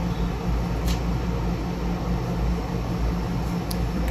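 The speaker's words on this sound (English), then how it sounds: "If you hear a noise, that's my AC in the background." A home air conditioner hums and hisses steadily in the background, an even, broadband drone with no talking.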